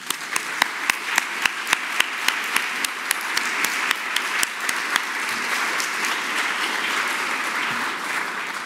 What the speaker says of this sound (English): I'd like to give a round of applause for the staff at IMLS.